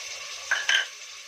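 Carrot, potato and radish pieces go into a sambar pot as it is stirred, a quiet sizzle with two brief scraping clinks of a spoon against the pot.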